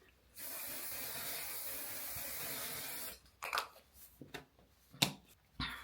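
A long continuous spray of makeup setting spray hisses for about three seconds, followed by a few short clicks and rattles of handling the bottle.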